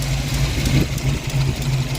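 A Ford Mustang engine idles steadily with a deep, even rumble and a faint rhythmic pulse, close and continuous, with no voices.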